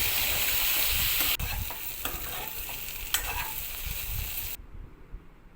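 Boiled ivy gourd pieces fry with sliced onions in hot oil. A steady sizzle comes with the scraping strokes of a spoon stirring in the pan, and it drops away suddenly near the end.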